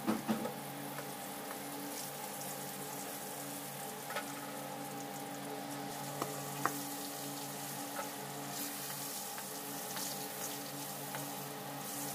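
Pointed gourd (potol) frying in oil in a pan gives off a continuous, even sizzle like light rain, with an occasional faint pop or tap; steady and close for the full twelve seconds, with no talk.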